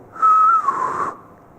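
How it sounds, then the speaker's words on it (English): A person whistles a single short note held steady, then sliding slightly lower before stopping, close and clear inside an old mill. "Can you make a whistling sound for me?"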